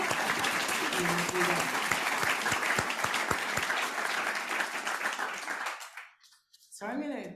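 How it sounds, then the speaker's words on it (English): A crowd gives a round of applause at a literary reading night, dense clapping sustained for several seconds before fading out, with a brief voice speaking over it and again at the end. "let's give a round of applause"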